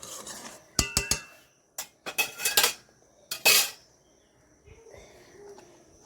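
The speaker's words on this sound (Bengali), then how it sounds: "লবণটা দিয়ে ঘেঁটে নিলাম।" A spoon clinks and scrapes against a vessel while salt is stirred into a sweet sago and mango drink mixture, with irregular sharp metallic taps in short clusters, then softer rubbing toward the end.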